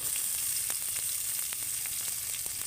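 Chopped ginger, garlic, onion, capsicum and green chilli frying lightly in oil make a continuous close hiss and crackle, with small pops and stirring clicks throughout and no voices.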